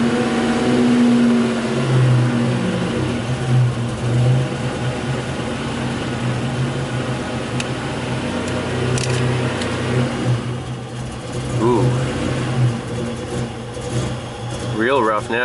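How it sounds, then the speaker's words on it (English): A Buick Grand National engine runs rough and lean, misfiring with an uneven, lumpy idle that surges and sags, heard up close while someone talks over it. "Real rough now. So it's misfiring, see it drop lean."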